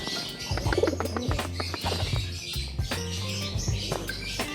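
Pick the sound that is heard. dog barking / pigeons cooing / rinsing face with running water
pigeons cooing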